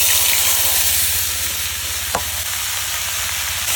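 Bottle gourd pieces dropped into hot oil for a prawn curry, a loud dense continuous sizzle close up, with one brief clink partway through and no talking.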